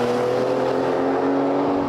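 An Aston Martin DB9 with a six-speed paddle-shift automatic under way, its engine a steady, loud, tonal drone with a constant hum and road noise from inside the cabin, with no talking over it.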